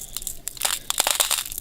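Dehydrated ground beef crunched at close range, a brief run of dry crisp crackling and crumbling bursts.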